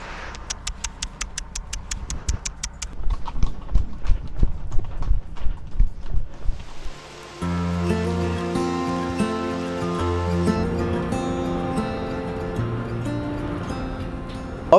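A horse walks outdoors on a farm with hooves clip-clopping in a steady, fairly close rhythm, then a louder sustained outdoor rumble and noise take over the second half.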